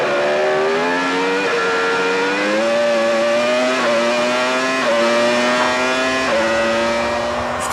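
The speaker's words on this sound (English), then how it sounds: "At the start, Villeneuve makes a near-perfect getaway to jump straight into the lead" Formula 1 race cars from the 1996 season scream away from the start, a dense, continuous engine howl with several cars rising and falling in pitch through upshifts, loud and without talk.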